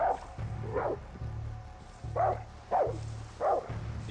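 A dog barks in the video game Far Cry 6, several sharp barks at a moderate distance coming in irregular bursts over a low background hum of the game.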